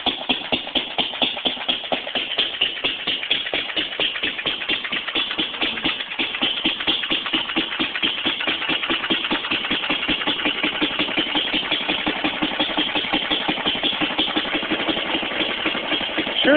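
An old Fairbanks 1.5 hp Style D stationary engine, primed with gas through the spark plug hole, runs at roughly 500 to 750 RPM with a steady, loud, rhythmic chugging firing beat that continues close-up throughout.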